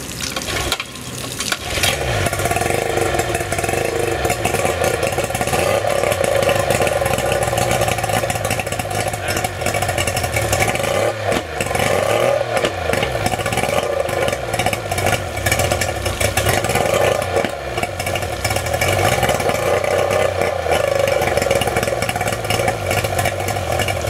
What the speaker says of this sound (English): I'm going to fire the engine up for the first time after cleaning the carburetors, and we're going to see how the motor is running